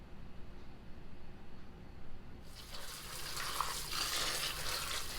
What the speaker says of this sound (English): I begin by rinsing and washing my tomatoes just to get any dirt or debris that could be on them